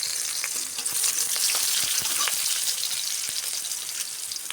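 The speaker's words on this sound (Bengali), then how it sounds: "আর এখানে কিন্তু পেঁয়াজ একটু ফোড়ঙে দেব" Sliced onion with cumin and black cumin frying in hot oil in a pan, a dense, steady crackling sizzle that stays close and loud throughout, with no voices.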